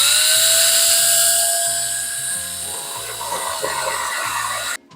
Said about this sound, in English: So I like to start the drill first.